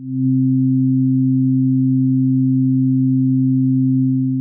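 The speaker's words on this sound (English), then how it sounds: "Maybe a low-frequency sine wave, around 100 hertz?" A steady, pure 100 hertz sine-wave hum holds unchanged for several seconds, loud and continuous with nothing else around it.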